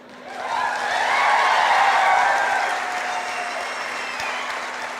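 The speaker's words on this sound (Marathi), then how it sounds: "कशा टाळ्या वाढल्या" Audience applause swells quickly and holds steady for several seconds at a live comedy show, a dense wash of many hands clapping at close range before tapering slightly.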